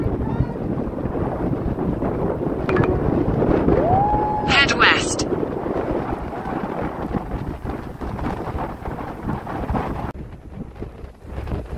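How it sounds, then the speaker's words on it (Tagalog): Strong wind buffets a boat out on open water along the Ilocos coast, a steady roaring rush with a brief rising whine partway through and voices speaking over it. "sobrang lakas pa rin talaga ng hangin dito"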